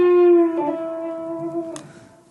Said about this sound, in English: Another great bend, I call it the ghost bend